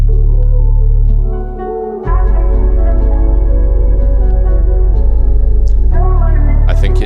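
Layered RnB sample accent drawn from the Mirage texture and accents kit, a steady sustained loop of tonal pads with a low bass drone that drops out briefly near two seconds and then returns, holding at an even, full level throughout.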